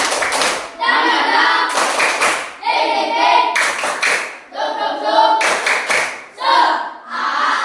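A group claps together in a steady, patterned rhythm, with voices chanting along between the claps, loud and close.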